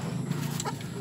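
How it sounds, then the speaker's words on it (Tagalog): Chickens cluck and murmur close by in a noisy barnyard, a low steady chatter with a brief higher call partway through. "Ito ang mga alaga kong manok."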